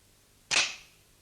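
A single sharp metallic snap rings out close by and decays quickly as the trigger of an unloaded British Army rifle is dry-fired during 1943 training, with no talking.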